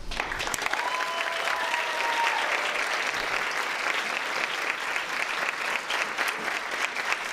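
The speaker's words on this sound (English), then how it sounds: "let's give one more big round of applause for all of our candidates" Audience at a small-town festival ambassador coronation applauding the candidates, a dense, continuous clatter of many hands clapping at close range, with a few faint shouts mixed in.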